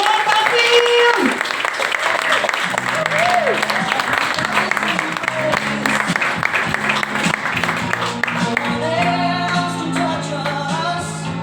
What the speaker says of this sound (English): Can I get you to start the applause, please?